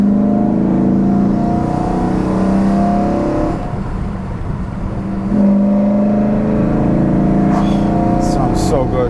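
A freshly rebuilt BMW E92 M3 engine pulls up smoothly in pitch, eases off into a quieter dip, then climbs again, loud and close with clear intake roar.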